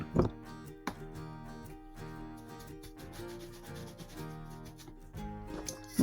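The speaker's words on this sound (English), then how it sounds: "Scrub, scrub, scrub." A dirty paint brush in bad shape is scrubbed to loosen its bristles, giving a soft, close, continuous rubbing and swishing with a couple of sharper wet strokes at the start and end.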